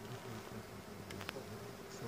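Honeybees hum steadily around an open beehive during queen release, a dense low drone holding throughout with a brief faint click near the middle.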